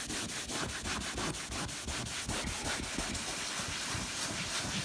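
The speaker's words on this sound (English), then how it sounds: "you need a more of a bristled scrubbing brush to kind of get down, because this upholstery has a texture to it" A bristled scrubbing brush works over textured upholstery in a Mastercraft wakeboard boat, making fast, even back-and-forth rasping strokes up close that continue without pause or speech.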